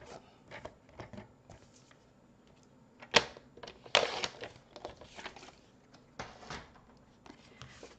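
White cardstock is trimmed on a paper trimmer, with scattered clicks and two sharp slicing swipes of the blade amid quiet handling noises.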